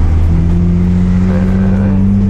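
A car engine hums and revs steadily while the brakes are dragged with the left foot, a loud, close, droning tone that rises slightly in pitch partway through and carries steady road and cabin rumble.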